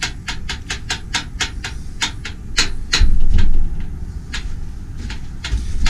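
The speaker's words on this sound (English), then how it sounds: "That noise you hear is just the handle." A horse trailer door handle is jiggled, giving a quick series of sharp metallic rattles and clicks over a constant background hiss, close and fairly loud with no talking.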